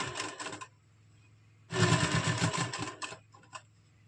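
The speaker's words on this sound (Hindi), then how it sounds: "तो हम इस तरह से पूरे में बड़े टांके की सिलाई लगा देंगे।" A sewing machine runs long basting stitches along the neck facing of a kurti, giving two bursts of rapid mechanical whirring separated by a pause, the second burst longer and louder.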